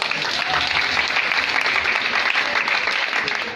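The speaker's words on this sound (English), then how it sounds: "Please clap for him." Steady applause from an audience at a political rally in Uganda, a dense, continuous patter of many hands clapping at a constant level for a few seconds, with no talk over it.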